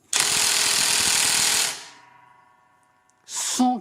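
An Onevan brushless 20V 1800Nm impact wrench from AliExpress screws at max power: a loud, close rapid hammering burst lasting about a second and a half, then a fading whir, and a second short hammering burst at the end.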